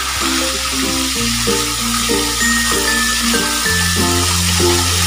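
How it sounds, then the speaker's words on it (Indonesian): Fish frying in hot oil, a steady bright sizzle running continuously, with background music playing underneath and no talking. "Kemudian lanjut goreng ikan sampai matang dan kering."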